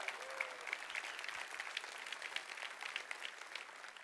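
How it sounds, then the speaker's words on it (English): Faint, distant clapping rolls on evenly from an audience at Atlassian Summit 2016's ShipIt Live, saluting seven entries with a continuous crackle and no voices. "Just one more massive round of applause for all our 7 entries"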